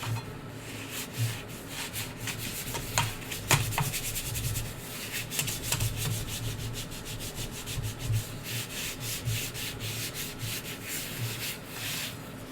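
Close, quiet, rhythmic rubbing strokes as the surface of a sculpted teapot cake is smoothed round and round, steady and repetitive with slight scraping texture and no voices.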